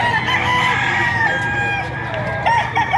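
At a poultry market in Padre Garcia, Batangas, a gamecock crows nearby, joined by further crowing and clucking from other chickens over a busy, murmuring background of voices.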